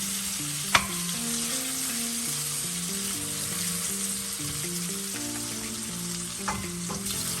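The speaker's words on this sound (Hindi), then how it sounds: "तेल गरम हो गया है, अभी हम चिकन पीसेस डाल देते हैं" Marinated chicken pieces sizzle and crackle steadily in hot oil, a dense continuous fry with a sharp clack near the start and another soft knock toward the end; soft tonal music runs underneath, with no talking.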